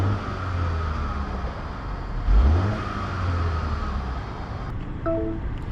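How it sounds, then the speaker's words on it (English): Engine and exhaust of a 2021 BMW X1 idling in a low, steady drone, rising briefly into a short rev midway and settling back, with a faint whir and wind alongside. "Let's hear the exhaust."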